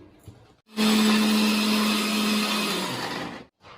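A mixer grinder whirs loudly and steadily for about three seconds while grinding biryani spices into a paste, starting abruptly and cutting off, close up with no talking.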